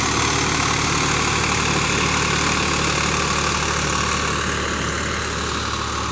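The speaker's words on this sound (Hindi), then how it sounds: "ये अपना स्वराज 44 और सूखे खेत में आप इसकी जुताई देखिए कितनी धूल धड़ाका मचाए हुए है।" A Swaraj 744 XT tractor tills a dry field with a 1.85-metre Sonalika Challenger rotavator, producing a loud, constant, close-up engine roar with heavy rumble and grinding texture that never lets up, with no voices.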